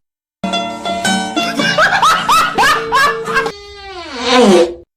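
A long, drawn-out fart with a series of squeaky, wavering blasts, ending in a rising high-pitched squeal; loud and close with no talking.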